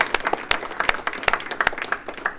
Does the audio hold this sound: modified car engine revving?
no